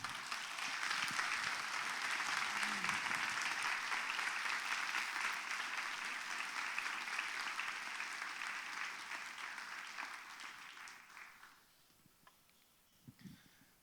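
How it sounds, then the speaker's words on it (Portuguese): A church congregation applauds in a sustained, even wave of clapping that lasts around eleven seconds before fading out, leaving a few faint sounds in the quiet room. "Dê um aplauso ao Senhor Jesus."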